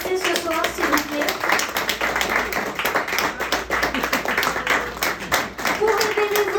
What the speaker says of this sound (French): Vous demander un tonnerre d'applaudissements pour tous les artistes qui sont passés ce soir